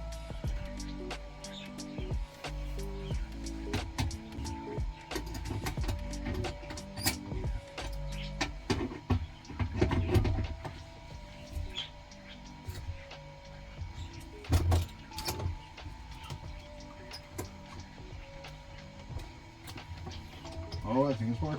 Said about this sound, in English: Let's try jacking it up, see what happens.